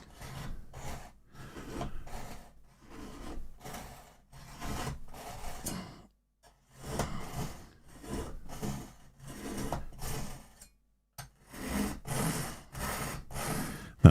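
A knife is drawn back and forth through a cheap push-pull sharpener, making a series of rhythmic rasping strokes in short bursts with brief pauses between sets, close and clear.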